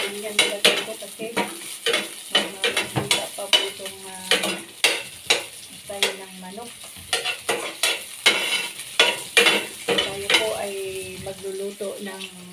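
Onion and garlic stirred in a hot pan for chop suey, with a rhythmic series of loud utensil clanks and scrapes against the pan over a constant sizzle.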